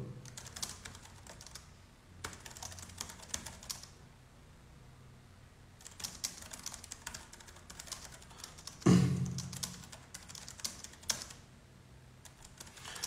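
Bursts of keyboard typing with steady clicking keystrokes, broken by short pauses and one soft thump near the middle, close and moderately quiet.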